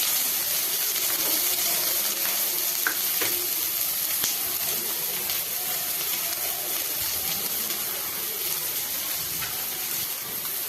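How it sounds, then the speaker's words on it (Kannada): Chopped onions sizzle and fry in about two spoons of oil in a pan while cooking a ridge gourd dish, a steady, close crackling hiss with occasional stirring clicks throughout. "ಅದಕ್ಕೆ ಒಂದು 2 ಸ್ಪೂನಷ್ಟೇ ಎಣ್ಣೆನ ಹಾಕ್ಕೋಬೇಕು, ಜಾಸ್ತಿ ಎಣ್ಣೆ ಬೇಡ. ಮತ್ತು ಕಟ್ ಮಾಡಿ ಈರುಳ್ಳಿ ಇತ್ತಲ್ಲ ಅದನ್ನು ಹಾಕ್ಕೊತಾ ಇದ್ದೀನಿ"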